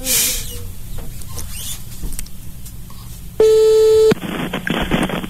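A telephone line tone sounds after a number is redialed: one loud, steady electronic beep lasting under a second that cuts in over faint room noise, then stops.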